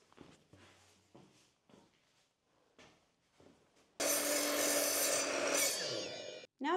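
Timber being cut by hand while framing around a loft ladder hatch: several short soft scraping strokes, then a loud continuous rasping saw burst that ends abruptly, close by.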